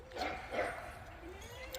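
Young puppies in a kennel give faint yips and whimpers, a few short high cries under a low background rumble, somewhat distant and quiet.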